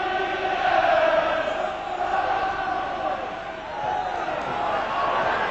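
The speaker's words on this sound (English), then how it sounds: "both teams already earning applause from the big crowd here this afternoon" Large football crowd at a Hearts match in the 1991–92 season, applauding and cheering in a broad, steady roar throughout, swelling and dipping slightly over a few seconds.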